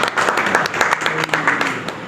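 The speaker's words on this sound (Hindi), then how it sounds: "थोड़ा सा तालियां बजे" Scattered clapping from an audience at a banana farming talk, steady through the clip, with a voice speaking over the applause.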